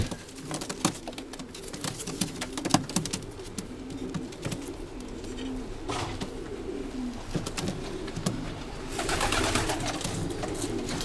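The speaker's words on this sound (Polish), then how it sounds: "Tu pana gołębie, 4 sztuki zamówionych, plus jeden dodatkowy." Pigeons coo softly and repeatedly at close range, with rustling and small clicks around them, and no talking.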